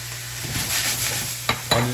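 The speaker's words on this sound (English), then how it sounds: "We got onions coming in here." Onions dropped into a hot pan and frying, a steady sizzle with a low hum beneath, broken by two sharp scraping stirs near the end.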